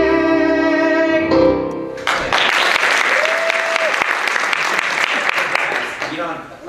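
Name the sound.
audience clapping after a song in an audition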